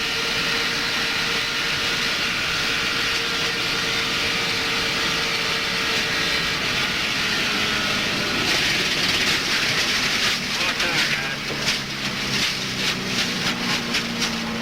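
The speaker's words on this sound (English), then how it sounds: "You heard him back off the throttle, and just after he backed off the throttle, you heard the tire start hitting the fender" An in-car race car engine at the 2002 Gatorade 125s drones loudly and steadily, then backs off the throttle, followed by a rapid rhythmic slapping as a tire starts hitting the fender.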